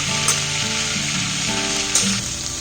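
Two bay leaves sizzle in hot butter in a pan, a steady close frying hiss with light crackles and a couple of soft stirring knocks, no voices.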